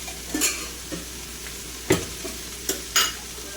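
Okra frying in plenty of oil hisses softly while a spoon stirs it, giving a few sharp scraping clatters spaced irregularly over the low, steady sizzle.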